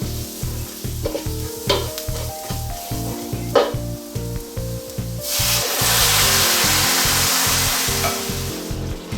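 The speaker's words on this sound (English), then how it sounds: "I'm going to stir this around and then add in the tomatoes." Chili mixture stirred in a hot pan, sizzling steadily with repeated scraping and stirring strokes up close, the frying hiss swelling louder partway through.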